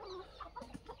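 Free-range desi chickens on a poultry farm cluck in a few short, soft bursts spaced across a brief moment, with a low background hum and no voices.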